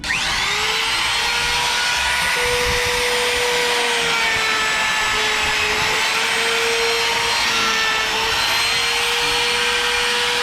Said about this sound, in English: I put a round over bit in the router.